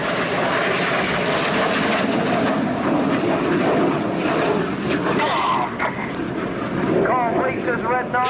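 Red Arrows BAE Hawk T1 jets flying a synchro display at the RIAT 2017 Royal Air Force airshow, a loud continuous jet roar sweeping overhead while a commentator talks over the public address.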